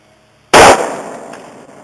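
A single loud Ruger Mini-14 rifle shot hitting and exploding a rock target outdoors, a sharp close blast with a decaying ringing tail.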